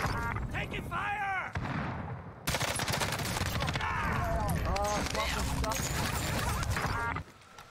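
Gunfire in a multiplayer shooter video game: bursts and rattles of shots run nearly throughout, under game voice chatter and radio callouts.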